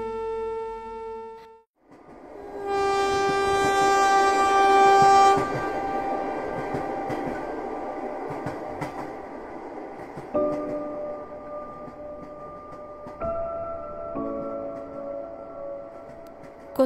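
A passenger train bound for Chattogram rolls along loudly and steadily, its horn sounding in long sustained tones that shift pitch over the rumble of the carriages.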